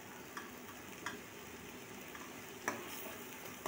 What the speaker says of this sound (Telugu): వేసుకొని ఒక 2-3 నిమిషాలు ఫ్రై చేసుకోవాలి